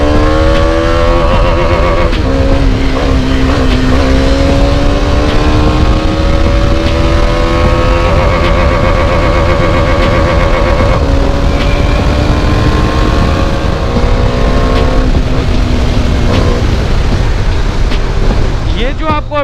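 A Bajaj Dominar 400 motorcycle engine revs and hums loudly while riding, pitch rising and falling through gear changes, with steady wind rush throughout, up close and continuous.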